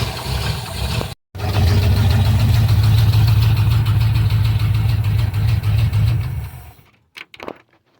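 An old, abandoned Ford Shorty van engine idles loud and close with a steady low rumble, briefly cutting out near the start, then running on before shutting off and sputtering into silence.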